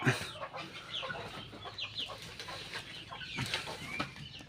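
Hens cluck repeatedly inside a chicken coop where eggs are being laid, short clucks and calls rising at uneven intervals over a steady, busy farmyard background.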